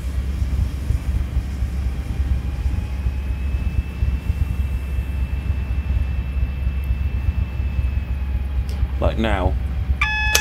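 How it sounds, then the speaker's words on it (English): A Class 70 locomotive on the North London Line in Train Simulator 2018 gives a short electronic safety-system warning beep near the end, over a constant low engine rumble, while someone speaks. "That's that beeping sound that's just there. That's a safety system."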